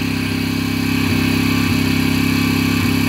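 A quad bike engine idles steadily and close by, a continuous low mechanical drone with a few brief dips in rhythm; the engine is hot and smoking slightly.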